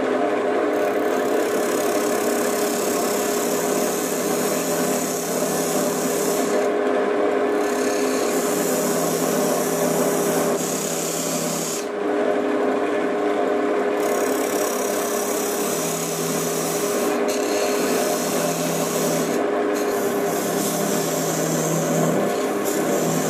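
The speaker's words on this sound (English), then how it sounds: "I'm just going to use a thin parting tool and mark where I want to put this" A thin parting tool cuts into wood spinning on a lathe while a heart-shaped box is turned, giving a steady loud scraping hiss over the motor's hum, with brief pauses and shifts in pressure.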